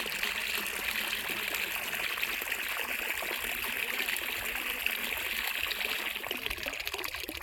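Irrigation water flows steadily into a wheat field with a continuous rushing, gurgling stream that stays close and even from start to finish, with no voices over it.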